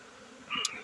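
Honey bees buzz around beehives in bright noon spring sunshine. A faint, steady hum is heard close by, with a brief louder buzz as one bee passes near.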